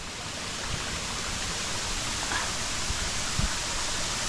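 Steady broadband rush of flowing stream water in Bicol, Philippines, continuous and fairly loud with a few faint splashes and soft knocks, no talking.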